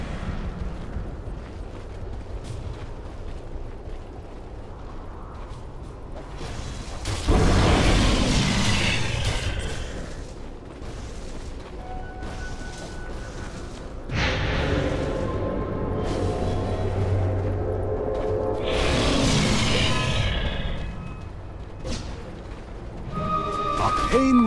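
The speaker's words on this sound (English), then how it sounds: "Dire's middle tower is under attack" Combat effects from an attack on the Dire middle tower in Dota 2: loud swelling blasts and crashes that rise around the middle and again toward the end, over a steady bed of game ambience.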